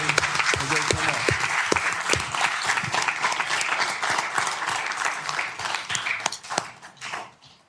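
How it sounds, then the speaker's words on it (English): A room of people at a city council meeting applauds the dispatchers with dense, steady clapping that holds for several seconds and then thins out toward the end. "Let's give them a round of applause as they come up."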